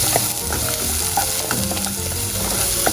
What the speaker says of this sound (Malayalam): അരിഞ്ഞു വെച്ചിരിക്കുന്ന സവാള, ഇത് നമുക്ക് നന്നായിട്ടൊന്ന് വഴറ്റിയെടുക്കാം.